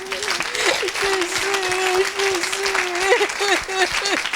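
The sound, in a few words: congregation applauding in church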